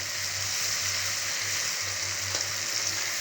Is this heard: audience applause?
no